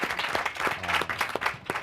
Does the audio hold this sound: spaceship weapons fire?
no